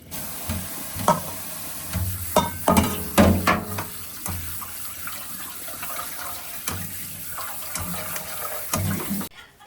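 Cooked broccoli is rinsed under a running tap, water splashing and clattering in a colander, with uneven bursts as the florets are tossed before it shuts off.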